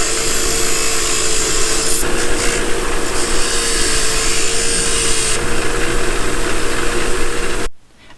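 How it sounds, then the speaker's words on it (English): Power buffer running steadily against an ornate metal drawer handle, stripping off old paint; a continuous loud whir with a rubbing edge, holding for about eight seconds before cutting off abruptly. "I even buffed off the paint of the original screws."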